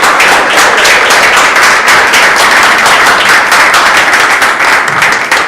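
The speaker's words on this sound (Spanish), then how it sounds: "un fuerte aplauso para él" A crowd claps loudly and steadily for several seconds, dense overlapping applause with no voices.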